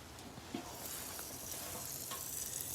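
Bacon fries in a pan at a campsite, giving a steady crackling sizzle with scattered sharp pops, alone and without voices.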